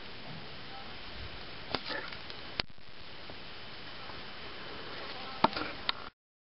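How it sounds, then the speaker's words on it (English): Small wasps buzz faintly and continuously against a soft hiss, with a few brief ticks and taps scattered through the drone. "Two little wasps"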